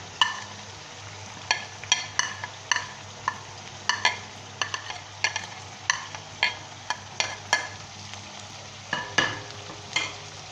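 Chicken frying in a pan with ginger-garlic paste and chopped green chillies for a Lahori green chilli dish: a steady low sizzle under repeated sharp scrapes of a spoon stirring against the pan, roughly one every half second, close up with no voices.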